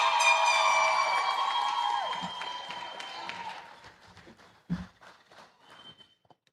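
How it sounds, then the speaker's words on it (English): Audience applause at a university medical school induction and awards ceremony, loud and dense at first with sustained tonal noisemakers, then thinning into scattered claps and fading out. "Let's hear an applause."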